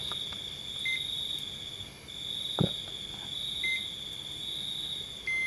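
A multimeter continuity tester beeps as its probes touch capacitor legs while a dead phone's circuit board is repaired. Three short, brief electronic beeps sound over a steady chirring insect background, with one sharp click midway.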